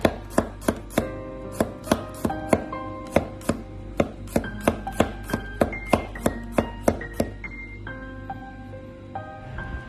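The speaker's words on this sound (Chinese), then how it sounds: "将大蒜切成薄片" A knife slices garlic cloves thinly on a cutting board, a rapid, even series of crisp close taps, about two per second, steady throughout with no talk.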